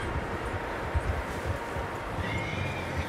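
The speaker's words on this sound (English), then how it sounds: "Horses, quite a few of them." Several horses whinny over a rhythmic clatter of hooves in the video game Red Dead Redemption 2, a busy, fairly close herd with no talking.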